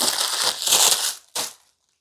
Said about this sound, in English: remove the film from the panels and the glass door on both sides.